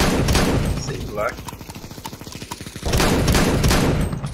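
Counter-Strike gunfire erupts in loud, dense bursts at the start and again near the end, with a quicker run of rhythmic shots between them.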